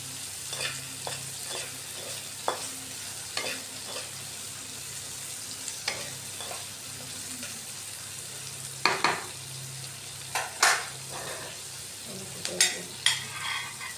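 Tomatoes and chillies sizzling as they fry in a pan for a Bengali homemade paneer dish, with steady crackle and intermittent scraping stirs, louder clacks near the end.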